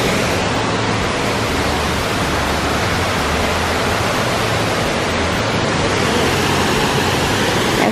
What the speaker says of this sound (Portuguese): Essa é a cachoeira da Água Doce.